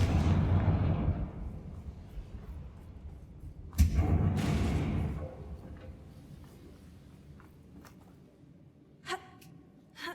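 A Confringo fire spell blasts a bridge in Hogwarts Legacy, a single sharp explosive burst that booms loudly and then rolls off into a long rumbling decay. Fainter thuds and crackles trail behind it.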